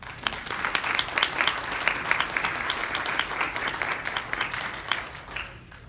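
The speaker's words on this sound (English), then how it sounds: "Let's welcome our next speaker, Amos, below with round of applause." An audience gives a round of applause to welcome the next speaker at a talk, a lively burst of many hands clapping that swells and then tapers off toward the end.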